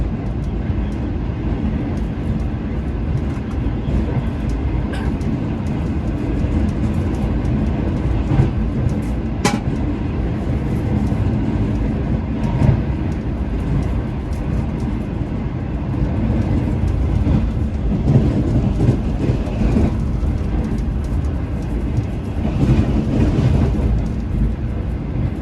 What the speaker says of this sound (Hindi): किलावाला रेलवे स्टेशन से गुजर रही है 28 डाउन।